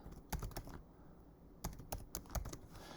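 Bursts of computer keyboard typing, a few quick clusters of close, crisp key clicks separated by short pauses, with no talking.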